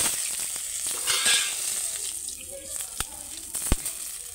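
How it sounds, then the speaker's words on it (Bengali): Whole spices for tempering hit hot oil in a wok used for frying potatoes, giving a soft sizzle with stirring, a few sharp clinks and a spoon tap near the end. "এবার আমি কড়াতে ফোড়নটা দিয়ে দেবো"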